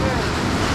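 Ocean waves wash against the Port Aransas jetties in a loud, continuous rush, with wind buffeting the microphone throughout.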